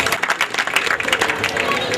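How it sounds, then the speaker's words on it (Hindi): An audience at a Rabi ul Awal ceremony breaks into a short burst of applause, with clapping mixed into crowd noise and a faint voice underneath. "इनके लिए एक दफा तालियां होनी चाहिए।"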